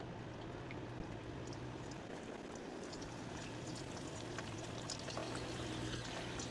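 Homemade buffalo chips drop into hot oil and fry with a faint, continuous bubbling hiss, small crackles and pops scattered across a low kitchen hum.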